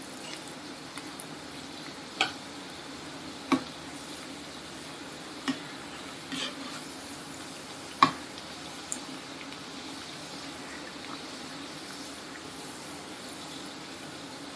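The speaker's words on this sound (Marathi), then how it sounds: "अशा प्रकारे आपण सर्व पुऱ्या तळून घेणार आहोत." Sweet jaggery puris fry in hot oil, giving a steady, soft bubbling hiss throughout with a few sharp clicks or taps scattered over it. No one speaks.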